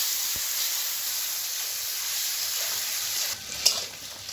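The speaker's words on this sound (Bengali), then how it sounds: "আমি পনিরটা তেলে ছেড়ে দেব।" Salted, turmeric-coated paneer frying in hot oil, a steady soft hiss and sizzle throughout with a brief louder spatter near the end; no one speaks.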